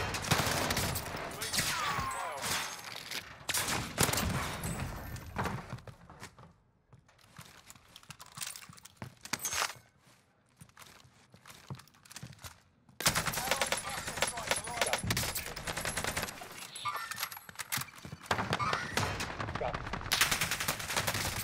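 Bursts of AK-47 gunfire in Warzone on Rebirth Island, loud rapid volleys in repeated clusters with quieter gaps between, mixed with game ambience and a voice speaking at times.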